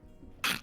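A single short, sharp sneeze bursts out after a quiet moment, loud and close.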